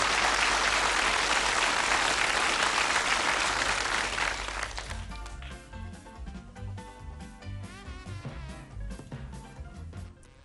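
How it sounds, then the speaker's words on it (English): A studio audience gives a warm round of applause for darts player Jockey Wilson and his trophy carrier on a game show, loud and dense at first, then thinning out as music-like tones and stage sounds take over. "a warm round of applause for Jockey Wilson and his trophy carrier"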